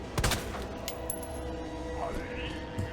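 A burst of gunfire from the Resident Evil 2 video game cracks out near the start, followed by faint game ambience and a rising tone, with a voice talking over it.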